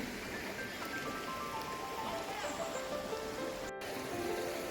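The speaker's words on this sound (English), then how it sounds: "This is the Kaveri Nadi flowing." The shallow Kaveri river flows over smooth stones and a sandy bed, a soft, steady wash of trickling water heard faintly and continuously, with a few scattered tonal chirps above it.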